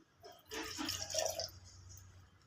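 Tamarind juice poured into a bowl for Ugadi pachadi, a short liquid splash and trickle lasting a couple of seconds, close and fairly soft over a low background hum.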